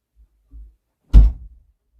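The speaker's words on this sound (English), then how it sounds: "I'm closing the door." A door is pushed shut indoors: a soft scuff, then one close, solid thunk that dies away quickly.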